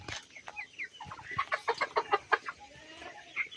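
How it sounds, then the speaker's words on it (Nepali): Chickens being raised for eating cluck close by, a run of rapid, rhythmic clucks and short calls building in the middle and easing off, with no talk. "घरको लागि कुखुरा तयार हुँदैछ यहाँनिर"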